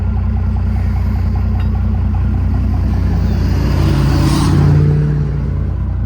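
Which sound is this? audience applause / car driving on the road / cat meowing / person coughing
car driving on the road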